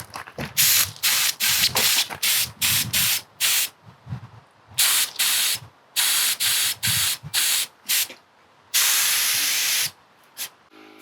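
Ash glaze sprayed onto a pottery fermenting crock, heard as loud, close bursts of hissing spray in short repeated pulses of varying length, with one longer blast near the end and brief silences between.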